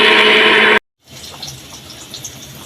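A little water is poured into frying masala of garlic and tomato for an aloo-potol curry: a loud, close gush of water cuts off sharply after under a second, leaving a faint, low bubbling hiss.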